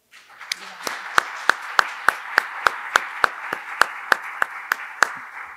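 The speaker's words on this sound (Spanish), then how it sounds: "tal vez recibimos a Raquel con un aplauso." Audience applause welcoming a speaker to a talk on urban planning and popular territories, a dense wash of clapping with sharp individual claps standing out rhythmically, moderately loud and steady for several seconds.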